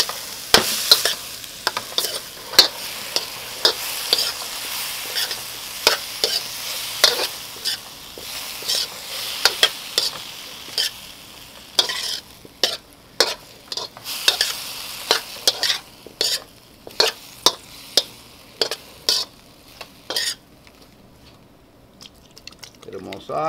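A broccoli and natural chicken sausage stir fry sizzles with soy sauce in a pan. A continuous hiss runs under frequent sharp clicks and scrapes of stirring, and the pan goes quieter in the last few seconds.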